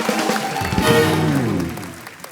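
A studio audience on The Kapil Sharma Show bursts into loud, sustained applause and cheering, swelling then tapering over a couple of seconds, mixed with tonal sounds.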